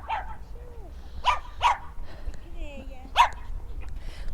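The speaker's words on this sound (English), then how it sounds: "Little dog enjoying his walk." A small dog barks on a seafront walk at Cleveleys, a few short, sharp yaps spread out over several seconds, fairly close against quiet outdoor background noise.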